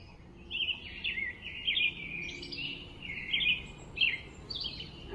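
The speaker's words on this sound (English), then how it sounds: "For right now, I hear a lot of birds" Several birds chirp and sing in quick, overlapping phrases outdoors, fairly faint and continuous, with no voices.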